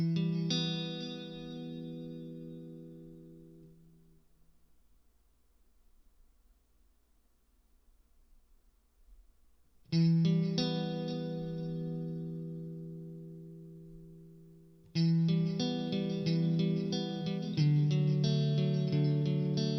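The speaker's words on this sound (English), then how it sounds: "let's go ahead and try to dial in just like a clean reverby tone" Clean electric guitar played through the Audio Assault The Crown amp plugin with delay and reverb, ringing chords that trail off into echoing tails, a pause, then louder strummed chords returning twice.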